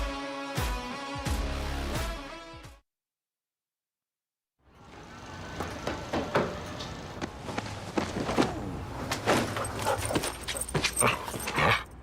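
A dog barks and yips in a bank advertisement, with several sharp barks and whimpers up close among footsteps and rustling. A short musical passage plays first, then a second of silence.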